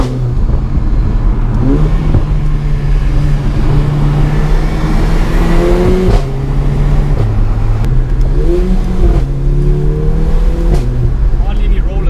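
Close, heavy engine drone of a Mercedes A45 AMG hot hatch pulling hard through several gears, its pitch climbing and dropping back at each shift, loud and steady throughout.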